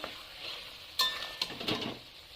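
Fried okra being stirred in a pan, a few soft scraping and clinking touches of utensil on metal over a faint low sizzle.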